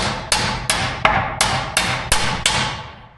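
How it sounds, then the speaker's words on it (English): Sheet metal hammered on a dishing stump to work out a tuck: seven sharp metallic blows at an even, steady rhythm, loud and close, each ringing briefly before the next, with no talk. "now start to hammer out that tuck"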